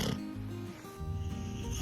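Deep, rumbling snores, loud and close, with a heavy snort-like rasp through each breath.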